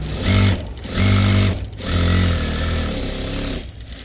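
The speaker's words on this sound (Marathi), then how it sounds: "परत स्टार्टिंग पासून एंड पर्यंत स्टिच करायचे डबल वाली" An electric sewing machine double-stitches the front part of a blouse from start to end in three runs: two short whirring bursts, then a longer steady one, loud and close, with brief pauses between them.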